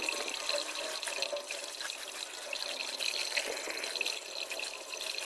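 Mustard greens, fenugreek and spinach leaves rinsed under a running tap, a steady close splash and trickle of water lasting throughout, with no talk.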